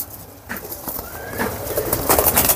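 Silver Jabra pigeons coo nearby in soft, repeated low calls, with faint rustling and shuffling around them.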